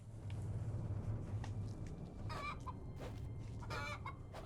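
A chicken clucks in the VR game Wayward Sky, with a few soft, short clucks scattered over a low ambient hum and no talking.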